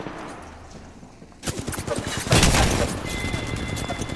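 Rapid automatic gunfire from an Apex Legends video game, a dense burst of loud shots starting abruptly after a quieter lead-in and continuing to the end, with a faint tone lingering underneath.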